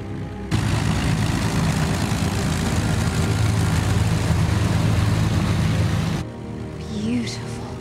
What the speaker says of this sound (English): A World War II Lancaster bomber.